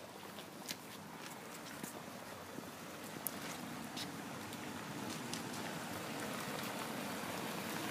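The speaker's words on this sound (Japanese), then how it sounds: "ちょっと雨が降ってきたな。" Light rain falls outdoors near the Royal Crescent in Bath, a steady hiss of drops with scattered sharper taps pattering on surfaces, continuous and even throughout with no voices.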